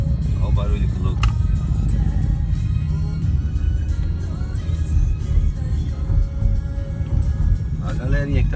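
A group of around thirty motorcycles in Japan rumbles and revs nearby in a continuous low engine drone, with people talking over it.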